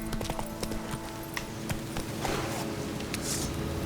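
Roach, a horse in The Witcher 3 video game, galloping with rapid, steady hoofbeats close up over a dense bed of game music and ambience.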